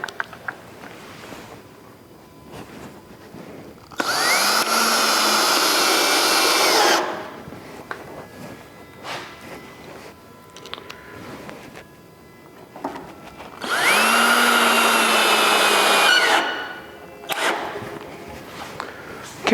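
Power drill drives screws at a slight angle into a wooden fence panel, two loud whirring bursts of about two to three seconds each with a quieter gap between them.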